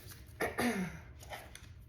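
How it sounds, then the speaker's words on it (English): A couple of short, rough throat-clearing bursts close to the mic, followed by quieter breathy sounds against a low background hum. "Sorry, I keep clearing my throat."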